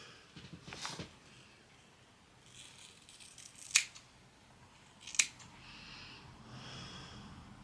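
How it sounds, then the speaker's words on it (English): Scissors snip through hair during a butterfly haircut, two crisp close cuts standing out over soft rustling and handling noise, with no talking. "I'm going to find the shortest spot, and I'm going to cut up to the shortest spot."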